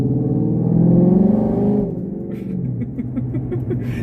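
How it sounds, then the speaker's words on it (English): A 2014 Ford Mustang GT gives a deep, rumbling exhaust note as it accelerates, swelling before easing off partway through, with light ticking and clicks following as the engine settles. "just hearing that exhaust tone"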